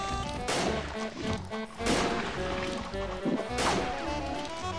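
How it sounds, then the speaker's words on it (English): Shotgun blasts from the video game Pirate Doom, three loud sharp shots spaced about 1.5 seconds apart over steady game music, with no talking. "Let's use the shotgun."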